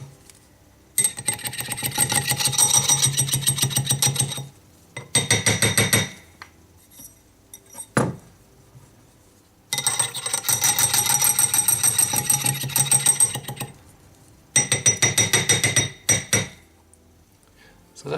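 A wire ring is tapped on a metal mandrel with rapid, ringing metallic taps in several long runs separated by quiet gaps, close and loud.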